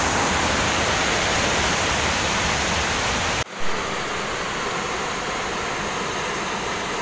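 Heavy water of a deep forest waterfall roars as a steady broadband rush, cutting out abruptly at mid-clip before resuming at a slightly lower, continuous level, with no voices.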